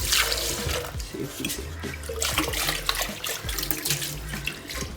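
Tap water runs steadily into a sink for several seconds, a close, continuous splashing stream in a home setting with no talking.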